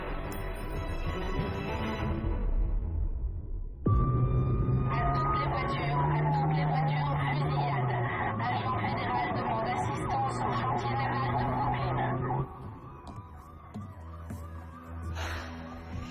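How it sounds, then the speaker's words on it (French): Wailing emergency sirens rise and sweep over a loud, busy scene, with voices and rumbling traffic; the sirens drop away near the end. "Des sirènes, elles se rapprochent."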